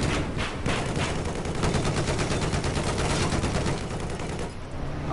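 Dense, rapid video game gunfire rattles without a break for about five seconds, loud and close, with a sustained automatic-weapon texture.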